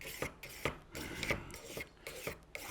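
A steel file rasps back and forth across hedge clipper blades in quick, even strokes, close and fairly quiet, with no talking.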